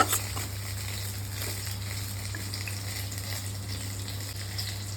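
Spices fry in hot oil for a gravy, giving a steady, continuous sizzle at moderate level over a low constant hum, with no talking.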